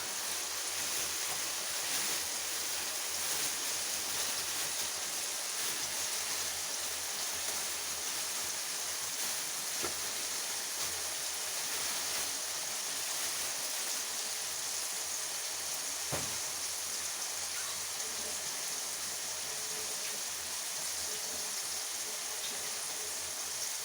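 Two small onions hiss and sizzle steadily in a pan while being sautéed for a wedding-style vatha kuzhambu, a continuous close, even frying noise with no voices.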